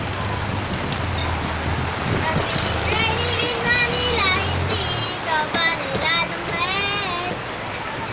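Steady rain on a wet afternoon in the Philippines: a constant dense hiss of falling rain under someone talking close by throughout.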